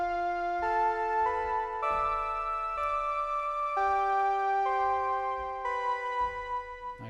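A bright synthesizer keys lead plays a steady melodic line of sustained notes, changing pitch every second or so, clear and close with no voices.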